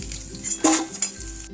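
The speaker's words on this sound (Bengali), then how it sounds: "তোমরা দেখতে থাকো কতটা পরিমাণে আমি ভাজি।" Young jackfruit pieces fry in a pan with a soft sizzle while a spatula stirs them, giving a few sharp metallic scrapes and clinks against the pan over a brief moment.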